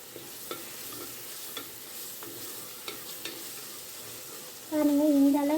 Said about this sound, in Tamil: இஞ்சி பூண்டு சேர்த்ததும் இஞ்சி பூண்டு வாசனை போகிற வரையும் நல்லா வதக்கி விடுங்க.